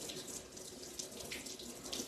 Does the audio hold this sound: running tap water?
yes